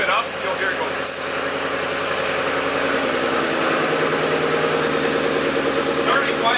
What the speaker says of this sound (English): When I rev it up, you'll hear it go